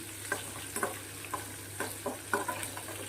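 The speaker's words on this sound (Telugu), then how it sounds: "ఇప్పుడు ఉల్లిపాయలు కూడా హై ఫ్లేమ్ పెడుతున్నాం" Onions fry on a high flame, a faint steady sizzle with a regular series of light spatula stirs and taps against the pan.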